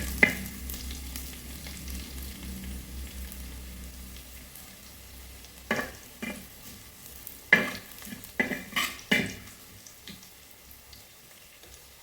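Shallots and garlic fry in a pan for a Kerala-style leafy thoran, a steady close sizzle running throughout, broken in the second half by several sharp scraping stirs of a spoon against the pan.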